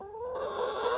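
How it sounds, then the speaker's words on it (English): A chicken on a farm giving a single short, nasal cluck close by, steady and clear with nothing else heard. "named a chicken Canarda, which is French for duck, is what I'm told."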